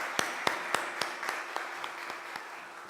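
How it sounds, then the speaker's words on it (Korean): A church congregation claps together in welcome, about nine crisp, evenly spaced unison claps that gradually soften and slow as they fade out. "우리 나올 때 다 같이 박수로 환영하시면 좋겠습니다."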